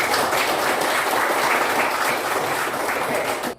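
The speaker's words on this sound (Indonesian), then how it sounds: "Mana tepuk tangannya?" A high-school class in Indonesia bursts into steady, loud applause, many hands clapping continuously for several seconds before it stops abruptly.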